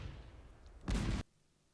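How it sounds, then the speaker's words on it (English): A single burst of explosion in Goddess of Victory Nikke, a short heavy rumbling blast lasting about a third of a second after quiet game ambience, then cutting off abruptly. "A huge explosion can be heard from behind us."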